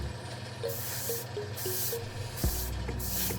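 An airbrush sprays glossy mica paint in light coats, giving soft repeated hissing bursts of about half a second each, close and fairly quiet, with a brief low thump near the end.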